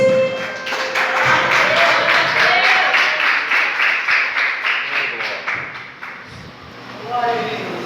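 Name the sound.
congregation applauding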